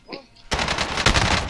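Gunfire in Call of Duty Warzone: a rapid burst of close, loud shots rattles continuously for about a second after a brief quiet lead-in, with no speech over it.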